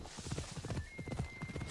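Horse hooves in the video game Assassin's Creed Odyssey clip-clop in a quick, steady rhythm, close and clear, with a faint tonal whine in the background.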